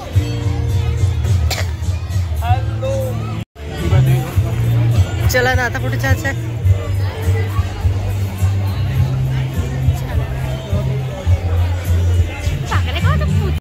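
Crowd hubbub outside a temple pandal, dense babble of many voices with close talk over it and a brief dropout partway through.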